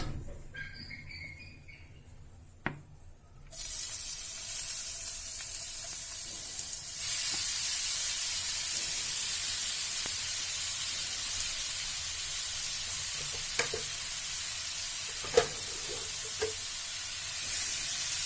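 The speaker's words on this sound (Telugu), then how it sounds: "అదే ప్యాన్లో ఇప్పుడు తురుముకున్న మనం సొరకాయ వేసేసుకుందాము." Grated bottle gourd hits a hot pan for halwa and fries with a loud, broad sizzle that starts abruptly and continues steadily, broken by a few clinks and scrapes of stirring and no speech.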